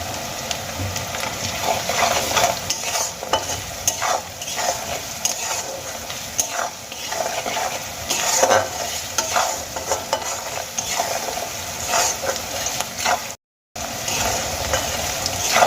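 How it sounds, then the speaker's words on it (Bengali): Onions frying with a pinch of salt in a pan, a continuous close sizzle broken by repeated scraping stirs of a utensil, loud and steady with one brief dropout near the end, no voices. "পেঁয়াজগুলো বেশ কিছুক্ষণ ভেজে নেওয়ার পর"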